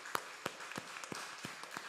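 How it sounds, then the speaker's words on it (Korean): Scattered claps from a church congregation during a Sunday service, faint and sparse, with individual hand claps spaced irregularly rather than a full ovation. "우리 박수로 환송하도록 하겠습니다"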